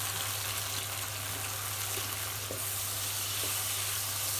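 Sliced bitter gourd fries with onions in plenty of oil, producing a dense, even sizzle that continues unbroken at close range with no voices.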